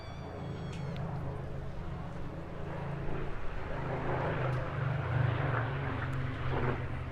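A Supermarine Spitfire Mark 19 with its Griffon engine and a clipped-wing Mark 16 fly over an airshow on the English Riviera, a steady low engine drone that swells slightly as they pass, moderately distant.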